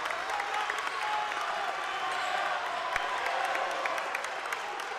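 Home crowd in the Mustang Corral gym at an Edgewood High School basketball game, applauding a good defensive play; steady, dense clapping and crowd noise fill the space at moderate volume throughout.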